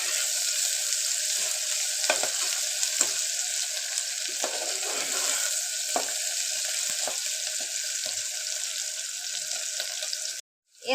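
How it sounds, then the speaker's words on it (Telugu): Sliced onions and green chillies fry in a pan, giving a continuous loud sizzle, with light scraping stirs now and then, until it stops abruptly near the end. "బాగా గోల్డెన్ కలర్లోకి వచ్చేదాకా అయితే వేయించుకోవాలి"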